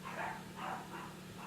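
A dog barks faintly in the distance, two or three muffled barks against a low background hum.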